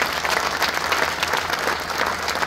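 A crowd applauds the FDNY honor guard at a gathering, steady dense clapping filling the whole stretch at close range with no talk over it.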